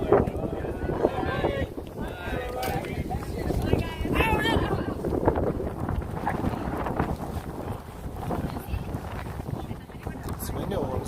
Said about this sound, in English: It's windy all of a sudden